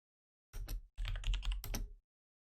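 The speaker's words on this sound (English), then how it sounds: "apologies for my super loud keyboard" A loud computer keyboard clatters nearby in three quick bursts of rapid keystrokes separated by short pauses, with no talking.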